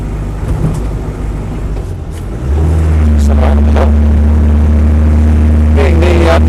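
A Land Rover 90 hardtop with a non-turbo diesel engine drives along, a loud, steady low drone that rises in pitch as it pulls away, heard from inside with no talking.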